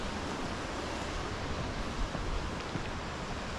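Lower Falls at Caesars Head pours out a steady, distant rush of falling water, a constant broadband roar with no voices over it.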